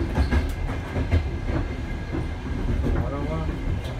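A Russian second-class train runs on its tracks with a continuous low rumble and rhythmic clickety-clack of wheels over rail joints, heard from inside the carriage, with faint squeals and some talk underneath.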